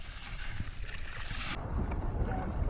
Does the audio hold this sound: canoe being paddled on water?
yes